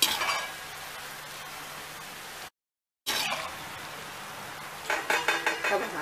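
Fried shankarpali, a sweet Diwali snack, lifted out of hot oil with a metal utensil: steady frying sizzle under sharp scraping and clinking against the pan, with a quick run of metallic taps near the end.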